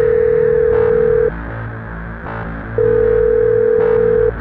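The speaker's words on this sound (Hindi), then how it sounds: "सुबह होते ही उसने रीमा को कॉल किया।" A telephone ringback tone sounds in two long, steady electronic beeps separated by a pause, loud and clear over a faint background.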